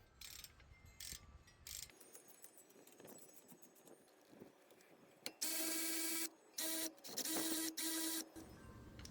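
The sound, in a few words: loosening caliper guide pin bolts with 7mm hex bit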